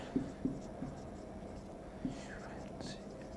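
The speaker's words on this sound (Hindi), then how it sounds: "तो यहाँ पे मैं लिखता हूँ" Marker or chalk writing on a board in a classroom lesson, a few faint tapping strokes under a quiet, close voice speaking softly.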